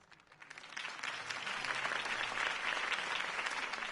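Crowd applause after a Harvey Dent campaign speech in the Batman Telltale video game, a steady wash of clapping swelling in from quiet and holding at moderate level, a little distant, with no voices.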